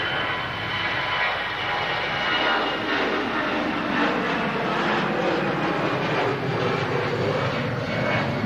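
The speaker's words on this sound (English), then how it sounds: "Brussels Airlines next to depart as we wait for the 330 to begin its taxi on Matcam as well" A Brussels Airlines jet airliner departing Manchester airport fills the air with a continuous, loud, broad engine roar that holds steady throughout, with no talk over it.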